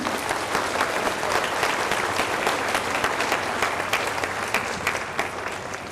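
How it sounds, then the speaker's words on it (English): A large board of education meeting audience applauds a group of 48 honorees, sustained loud clapping from many hands with a steady dense texture and a faint crowd murmur, tapering slightly at the end. "So a round of applause to each and every one of them."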